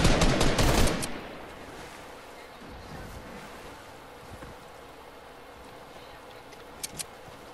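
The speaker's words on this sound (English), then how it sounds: "Y'all boys start shooting at them." A loud burst of rapid gunfire opens, followed by a quieter stretch of background noise and two short, sharp shots near the end.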